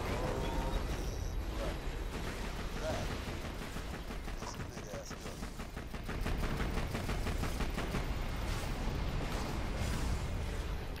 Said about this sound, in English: Oh, I walked right into a mortar